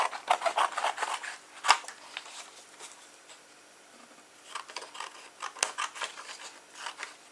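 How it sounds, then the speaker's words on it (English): Scissors snip out a square from thin card in quick bursts of close, crisp cuts, pausing briefly midway before another run of snips. "the first thing you do is we cut out the square shape"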